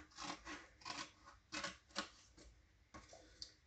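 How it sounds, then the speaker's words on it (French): Scissors cut through card along a diagonal, making a series of close, crisp snips and rasping strokes at an uneven rhythm, quiet and with no talk. "on va venir couper cette diagonale"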